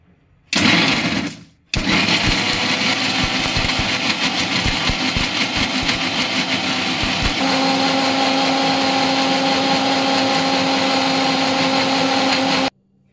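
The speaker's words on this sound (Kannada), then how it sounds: "ಮಿಕ್ಸಿ ಮಾಡ್ಕೊಂಬಂದಿದ್ದೀನಿ ನೋಡಿ" An electric mixer grinder runs steadily for over ten seconds, grinding rasam ingredients with a little water into a coarse paste, its loud whirring motor tone shifting slightly partway through before cutting off.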